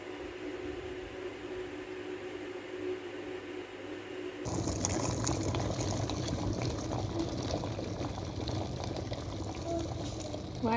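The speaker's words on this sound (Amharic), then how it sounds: "ውሃችን እንዲህ ፍልት ማለት አለበት።" A pot of water on the stove comes to a boil for cooking chicken and rice, a quiet simmering hiss that abruptly grows into a louder, dense bubbling roil after a few seconds.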